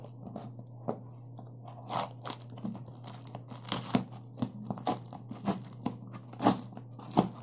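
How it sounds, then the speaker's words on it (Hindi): Headphone packaging for a Boat Basshead 100 is cut open with a key instead of scissors: close, irregular scraping, crinkling and tearing of cardboard and plastic in quick bursts, with a faint steady hum beneath. "मेरे पास तो फिलहाल कैंची नहीं है तो मैं चाबी से इसको काट रहा हूँ"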